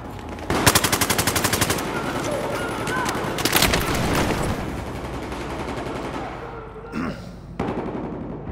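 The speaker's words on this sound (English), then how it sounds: "Spotted hostile machine gun." Machine gun fire in the Battlefield 4 video game, loud rapid bursts of automatic shots up close, one long burst and further volleys with a shorter burst near the end, over game noise and some talk.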